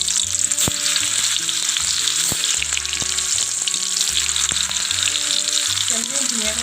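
Raw banana slices fry in hot oil for chips, a loud steady sizzle close up with occasional spoon clicks, under soft background music.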